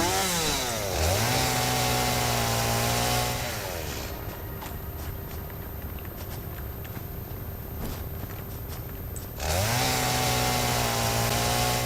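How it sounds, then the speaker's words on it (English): A chainsaw in the video game Satisfactory revs up sharply, then settles into a steady rough cutting drone against a tree. It revs again at the end, loud and close. "I think I can get rid of it without dying. Yeah. Chainsaw time."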